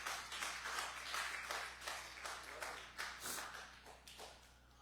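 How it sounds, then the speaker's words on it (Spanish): A church congregation clapping during a service, a series of quick bursts of claps that rise and fall in loose rhythm, heard at a moderate distance with reverberant room tone. "denle un aplauso al Señor"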